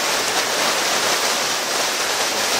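Floodwater rushes through a street in Itaquiraí, a loud, steady broadband roar of churning water that holds constant without a break.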